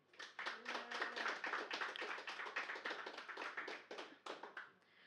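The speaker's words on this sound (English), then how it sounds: "Please, everybody, give a massive round of applause for Jay." A small audience at a poetry reading gives a round of applause, a burst of distinct individual hand claps, fairly close, that thins out and fades near the end.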